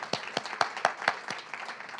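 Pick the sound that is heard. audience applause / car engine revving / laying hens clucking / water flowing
audience applause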